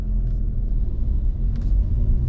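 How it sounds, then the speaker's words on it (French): A car engine with a start-stop system fires back up, apparently triggered by the air conditioning, giving a steady low rumble that runs close and continuous, with a faint brief rise partway through. "Alors là, il s'est redémarré, je pense, sûrement à cause de la clim"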